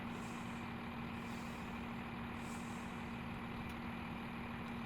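A train's air brakes are set to a step 2 application, heard as a steady low hiss and hum inside the cab under a faint constant engine drone.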